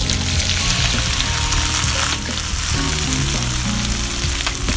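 Shrimps frying in a pan with garlic give a loud, dense, continuous sizzle with crackling bursts and faint stirring clatter, up close and without speech.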